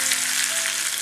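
Chopped onion frying in oil with popped mustard seeds, a dense, bright sizzle that stays steady and fairly close throughout a brief moment, with no voices.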